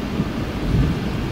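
Heavy rain in Meghalaya during a bike ride, heard as a dense, loud low roar of downpour and wind rumble that continues without a break, with no voices.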